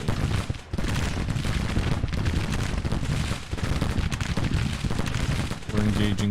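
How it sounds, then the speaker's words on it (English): Cannon and canister volleys from Civil War artillery batteries in Grand Tactician: The Civil War, a dense, continuous roar of booming shots and crackling fire throughout, with a voice faintly under it. "They shoot with the artillery."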